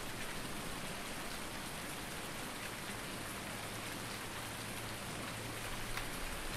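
Rain falls steadily in the farming game Farming Simulator 19, a continuous soft patter of drops on surfaces, even and unbroken throughout with no talk.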